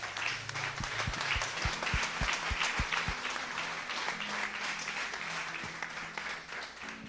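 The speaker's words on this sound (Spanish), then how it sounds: "Le damos un fuerte aplauso al Señor." A church congregation applauds during a sermon, a full round of clapping with some sharp close claps early on, spread evenly and steadily throughout without speech.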